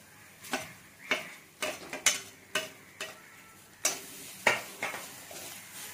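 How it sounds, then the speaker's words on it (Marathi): Fresh grated coconut being roasted in a pan for a spicy chicken curry: a quiet low sizzle punctuated by a series of sharp, irregular scraping and tapping strokes from stirring. "ओला नारळ घ्यायचा आहे परतून"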